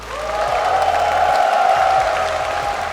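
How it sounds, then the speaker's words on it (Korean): An audience at an esports tournament final applauds with crowd noise, a dense sustained clapping that holds steady at full strength for the whole stretch, with a faint tonal hum running underneath. "큰 박수로 환영해 주시면 감사하겠습니다"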